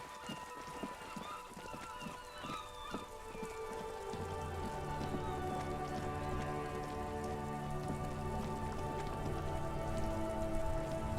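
Steady rain patters across a surface in the Disco Elysium game world, a dense continuous hiss, with a low droning hum swelling in partway through and holding beneath it.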